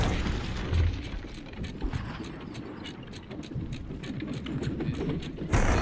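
Enemy fire pounds a player's ship in a ship-defence video game, a dense run of repeated booms and mechanical clatter carrying steadily for several seconds with no talk over it.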